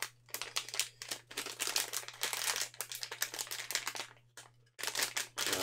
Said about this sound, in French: Alors attendez, que je déballe ça.